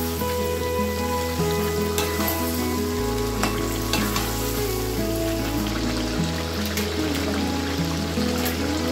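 Olive pickle with jaggery being stirred in a pan for a traditional Bengali jalpai achar, a steady sizzling bubble with scraping strokes throughout, and a low droning tone underneath partway through; no talking.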